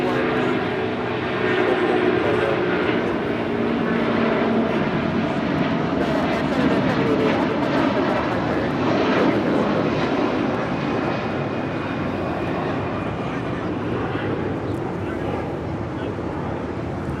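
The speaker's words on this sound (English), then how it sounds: "That is Air Canada 788 Heavy departing to Toronto on an A330-300." Air Canada Airbus A330-300 departing Los Angeles International Airport, a sustained loud jet engine roar rumbling across the whole stretch with faint clicks, and a voice speaking over it.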